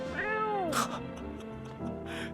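A game cat meows in No, I'm Not a Human, giving several clear, close meows with rising and falling pitch, then a shorter cry near the end.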